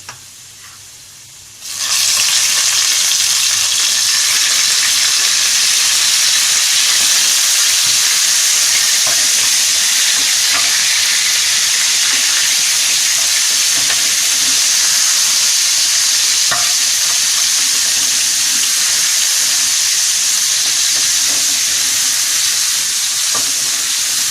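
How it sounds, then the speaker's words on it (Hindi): Meat added to browned onions in a pot for dal gosht, bursting into a loud, steady sizzle of frying that starts abruptly after a quiet moment and continues unbroken, with no speech. "प्याज हमारी ब्राउन हो चुकी है। अब इसमें हम गोश्त ऐड करेंगे।"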